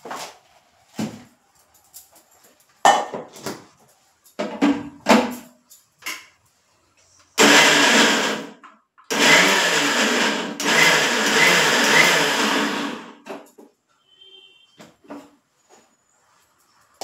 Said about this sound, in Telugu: ఇదిగోండి 2 ఉల్లిపాయలు, 2 పచ్చిమిరపకాయలు మిక్సీలో కొంచెం కచ్చా పచ్చాగా మిక్సీలో వేసుకుందాం